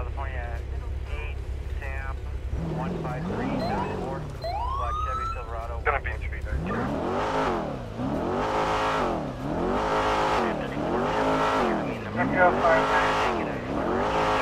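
A Mustang engine revs hard in repeated climbing and falling sweeps, loud and close, after an opening stretch of radio chatter and a siren-like wail; talk runs underneath.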